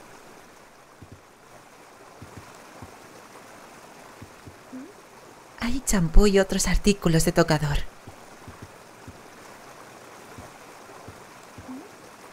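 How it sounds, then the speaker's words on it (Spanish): In Raw Danger, hot water pours steadily into a nearly full bathtub, a constant rushing hiss throughout, with a voice talking over it for a couple of seconds midway. "Sale agua caliente."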